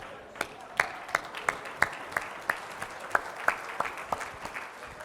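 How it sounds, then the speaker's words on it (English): At a civic State of the City address, a crowd applauds steadily while distinct sharp claps land in a slow, even rhythm close by. "now I want you to start clapping"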